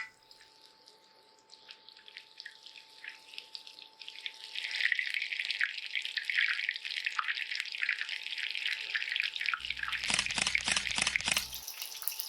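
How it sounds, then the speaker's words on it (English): Liquid crackles and sizzles steadily, building in intensity, with a few sharp bursts of splattering near the end. "You can water your fingertips and dip them in the batter and drip it over the oil."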